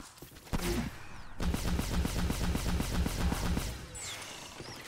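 Rapid, evenly spaced bursts from the overload pulse weapon in the Ghostbusters video game, loud and close, a rattling volley lasting a few seconds before tailing off into ambient game sound.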